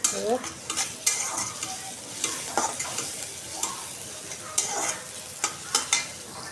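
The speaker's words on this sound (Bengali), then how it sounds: "এখন পেঁয়াজ দিয়ে দিচ্ছি চুলায়।" Chopped onions fry and sizzle in a pan on the stove for an egg and potato curry, with a steady hiss broken by repeated scraping stirs of a spatula, close up, with no talking.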